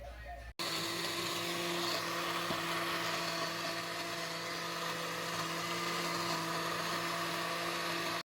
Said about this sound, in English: Then put just a cucumber in the blender.